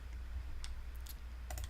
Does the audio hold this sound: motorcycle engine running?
no